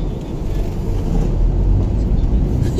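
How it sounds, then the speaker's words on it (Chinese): Traffic on a winding mountain road near a three-province border, heavy vehicles such as a large bus and a truck passing close, heard as a loud, steady low engine and road rumble with no clear break. "大客车。"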